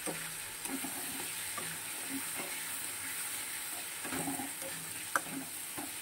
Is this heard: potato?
yes